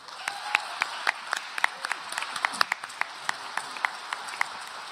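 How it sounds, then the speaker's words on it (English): Audience applause at a university honors society new member induction ceremony: steady crowd clapping with distinct individual claps popping out, moderately loud and close, continuing throughout without talk. "give her a huge round of applause"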